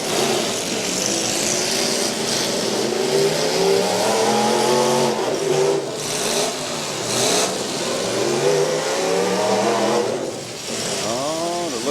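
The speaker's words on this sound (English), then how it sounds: "the truck's starting to get warmed up just a little bit" Trucks in a county demolition derby at Portage County roar and rev continuously, their engine pitch rising and falling in loud sweeping waves with crowd and arena noise underneath.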